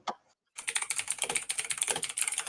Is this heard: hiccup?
no